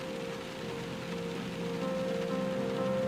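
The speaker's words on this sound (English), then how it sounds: "Sounds like it's always raining." Steady rain ambience from the video game Heartbound, a constant even hiss of falling rain with a faint low tonal hum running underneath throughout.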